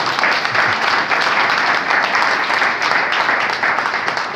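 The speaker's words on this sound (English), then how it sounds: "All right, big round of applause." Steady, dense round of applause from an audience at a startup pitch event, loud and continuous for several seconds with no talking over it.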